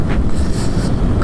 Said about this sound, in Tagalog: lakas ang hangin oh.